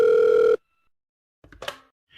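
A telephone rings once with a steady electronic tone, then cuts to silence before faint rustles and a short burst of handling noise as a call to a fisherman connects.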